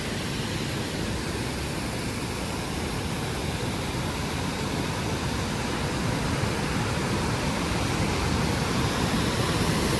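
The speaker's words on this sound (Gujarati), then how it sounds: "અહીંથી આ પાણી જાય છે મસ્ત પથ્થરમાંથી" Water rushes steadily over rocks beside the Mayadevi temple cave at Bhenskatri in Dang, a continuous loud broadband roar of flowing water with no break.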